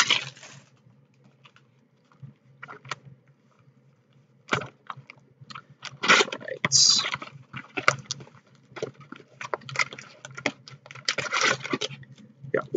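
Irregular crisp snips and crinkling of a Naruto trading card booster box's plastic packaging being cut close up with rusty scissors, in short bursts with quiet gaps, no talking.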